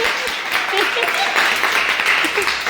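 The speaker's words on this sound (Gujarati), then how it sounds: "તાળીઓ પાડો ભક્તિ આટલું બોલી." A group claps and applauds, a dense continuous patter of hands under a few overlapping voices and shouts, fairly close and steady throughout.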